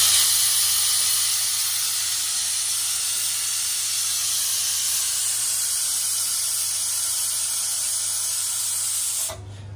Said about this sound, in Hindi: कुकरचं झाकण लावून घ्यायचं. हार्डली 2 to 3 सीटी वाजायला द्यायचे.